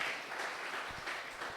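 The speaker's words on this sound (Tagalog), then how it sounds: "So, misa pang palakpak sa Panginoon." Congregation clapping during a church service, a steady wash of applause from many hands filling the room, moderately loud and continuous with no voices on top.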